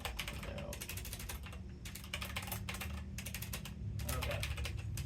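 Rapid keyboard typing in quick bursts of clicking keystrokes, close to the mic, with short pauses between runs over a low background hum.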